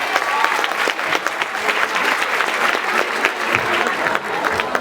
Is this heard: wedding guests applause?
yes